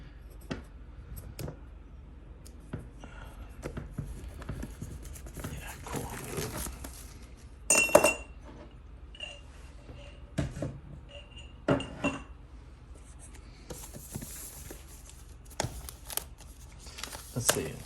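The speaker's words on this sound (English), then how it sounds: "So I'm just cutting this open really quick." Cardboard packaging for an M1 Mac Mini being cut open with a blade, giving scattered scraping, rustling and sharp clicks and clinks at close range, with someone talking intermittently over it.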